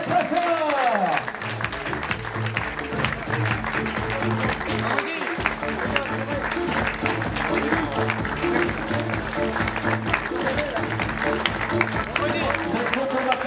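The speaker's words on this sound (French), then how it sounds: "Je vous demande de les applaudir très très fort" An outdoor audience at a cycling race podium applauds steadily throughout, blended with rhythmic music and a voice talking over it.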